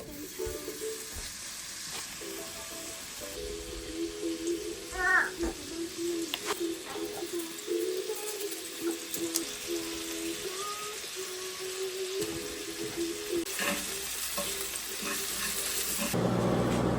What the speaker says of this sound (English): venison tenderloin, so deer tenderloin right here, and I'm going to chop it up and I'm going to fry it